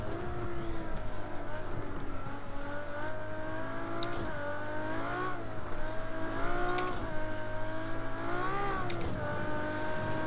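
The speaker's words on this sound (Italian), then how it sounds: "si riaccelera in progressione e si fa ululare questo motore, che poi è ultra tecnologico questo qui della Ferrari" LaFerrari engine in Project Cars 2 howling as it accelerates through the gears, a high rising wail that dips at each shift and climbs again, loud and continuous.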